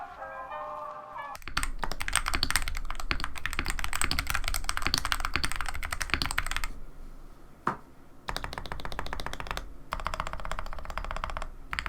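Rapid typing on a modded MK61 mechanical keyboard with thin pudding keycaps, close and clacky, in several bursts separated by brief pauses, after a short muffled sound at the start.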